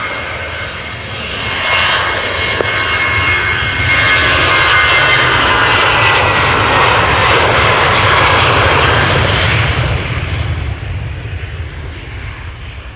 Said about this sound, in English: the next airplane is already spooling up. KLM flight 1363 going to Warsaw, another 737-800